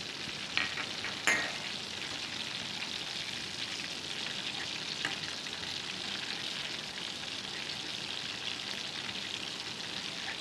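Food frying in a pan, about to have herbs and cream added, gives a steady close sizzle with a couple of brief clatters early on and no talking.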